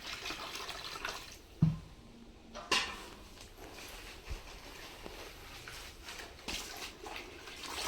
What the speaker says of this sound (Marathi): तर आता ही भाजी ना पाण्यानं चांगली धुवून घ्यायची